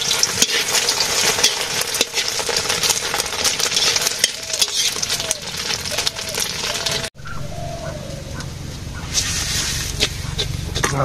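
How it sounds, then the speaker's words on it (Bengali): Eggs frying in a pan, a dense crackling sizzle with stirring scrapes that quiets abruptly partway, then continues at lower level. "ডিম ভাজি হবে।"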